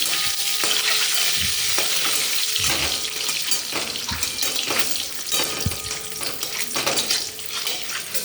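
Turmeric-coated boiled eggs fry in hot oil with a loud, continuous crackling sizzle, punctuated by occasional spatula knocks and stirring scrapes.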